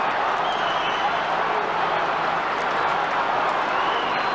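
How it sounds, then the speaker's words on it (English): Football crowd roaring at a 1994 Adelaide Crows vs Collingwood quarter final, a continuous broad wash of cheering that stays loud and steady throughout. "Crowd roaring here."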